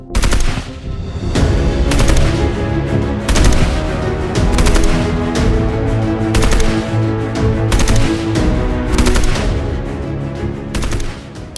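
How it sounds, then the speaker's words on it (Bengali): Sustained automatic gunfire crackles in loud, rapid bursts, with several separate volleys one after another and brief gaps between them. "পিলখানার ভেতর থেকে ভেসে এলো গুলির শব্দ"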